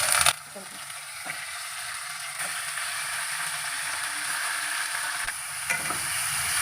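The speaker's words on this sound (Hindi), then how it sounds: "चिकन को उस वक्त तक फ्राई करेंगे कि इसका जो कलर है वो चेंज हो जाए।" Boneless chicken pieces fry with onions in a pan over a low flame, giving a steady close hiss and sizzle with occasional scraping stir strokes.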